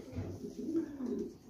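Soft, low female pigeon coos, a short burbling call close by with no other sounds.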